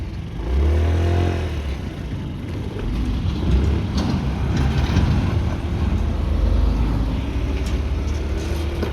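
A Yamaha Gear UA07J fuel-injected cargo scooter engine starts and then idles with a steady, close, low droning hum that holds an even level throughout.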